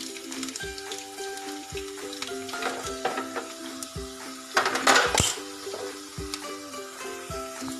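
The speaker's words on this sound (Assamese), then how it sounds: "মই পিঁয়াজ অকণমান দি লৈছোঁ ভাজিখিনি বনাই ল'বৰ বাবে।" Onions fry in a pan for an aloo chop, a faint steady sizzle with occasional scraping stirs, heard beneath tonal background music and rising briefly to a louder burst midway.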